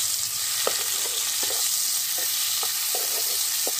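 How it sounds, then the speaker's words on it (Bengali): Taro stolons frying in mustard oil in a wok, a steady close sizzle broken by regular soft scrapes of stirring, with no talking. "কড়াই দিয়ে দিয়েছি সরষের তেল। এবার ভেজে দেবো"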